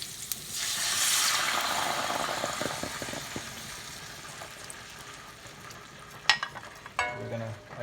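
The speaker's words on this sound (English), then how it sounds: "we're just gonna let this go ahead and slowly simmer down" Saltfish rundown made with coconut milk cooks in a pot on medium heat, giving a steady soft bubbling and sizzling hiss that fades slightly. A couple of sharp utensil clinks are heard near the end.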